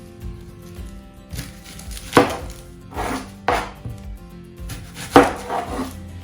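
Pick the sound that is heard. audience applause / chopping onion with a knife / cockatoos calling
chopping onion with a knife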